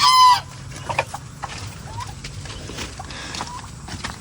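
Chickens cluck on a backyard farm that also keeps turkeys, ducks, geese and pigs, with a brief loud burst at the start followed by scattered soft clucks and calls over a quiet outdoor background.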